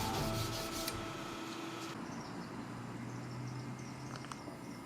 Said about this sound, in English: You gotta pay attention when you're hand sanding.